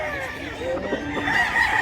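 A rooster crowing in a long, strained call at close range, with rough harmonic tones and nearby human voices over low background noise.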